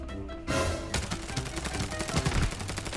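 Rapid automatic gunfire in the shooter Arena Breakout, a dense, steady stream of shots with a sharper burst near the start, fairly close and loud, no talking over it.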